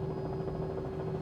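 Robinson R66 helicopter engine in Microsoft Flight Simulator spinning up, a steady turbine hum with a constant whine held throughout, near and moderately quiet, no speech.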